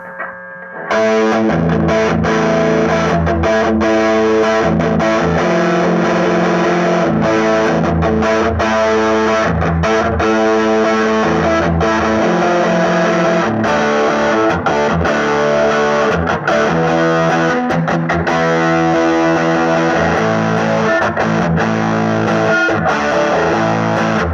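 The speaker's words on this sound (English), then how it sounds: "That's the distortion sound, right?" Heavily distorted electric guitar through a ProCo RAT distortion pedal, playing continuously and loudly for over twenty seconds, thick and saturated, with chords ringing out and no talking.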